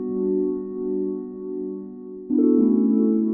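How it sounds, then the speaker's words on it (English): Sky Keys 'About Time' instrument, a pad-like Rhodes keys sound, holds one soft sustained chord that shifts to a new chord near the end, smooth and mellow with no voices. "I am gonna go to Sky Keys and use this sound called About Time"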